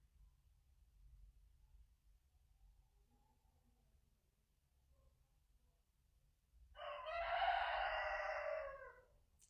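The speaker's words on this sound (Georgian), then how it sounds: "ჩემი მამალი ჩემთან ერთად სინქრონშია ხოლმე" A rooster lets out one loud, drawn-out crow near the end, following several seconds of quiet low background hum.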